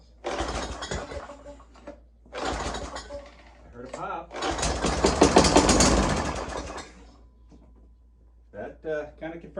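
An old, greasy string trimmer's small engine sputters in short bursts after a shot of carb cleaner, cutting in and out three times with one longer roar, loud and close, and someone speaks between the bursts.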